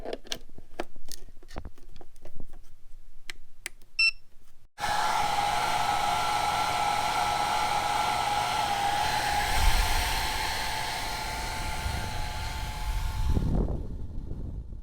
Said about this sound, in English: Let's try a hairdryer